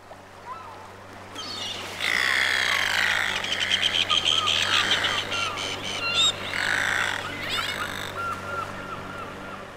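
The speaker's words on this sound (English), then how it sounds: "One of the things I was able to hear were birds." Birds squawk and call on an offshore island, a harsh chattering chorus of repeated cries over a low steady hum, starting about two seconds in and carrying on in bursts.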